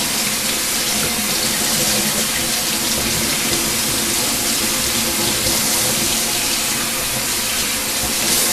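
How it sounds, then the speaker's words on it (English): Leeks are rinsed under a running kitchen tap, a steady, close, continuous rush of water flowing and splashing for the whole stretch, with no talking. "just give them a good rinse, because there's always a little bit of soil and sand between the leaves."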